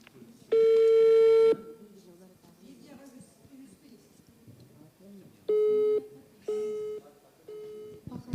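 A telephone busy signal sounds as one long tone, then three shorter evenly spaced beeps, heard fairly quietly over a faint murmur of background noise.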